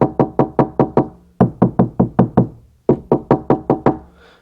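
Knuckle knocks on a VW T5 camper van panel covered in sound-deadening material, three quick bursts of about six dull, damped thuds each, close and clear with no talk.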